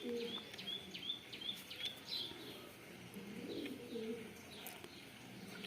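Soft, low pigeon coos close by, while small birds chirp and tweet in the background.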